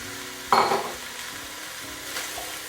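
Five celery stalks with a few leaves sizzle and fry in a pan, a loud burst of frying as they hit the oil settling into a steady crackle, with a brief stir scraping midway.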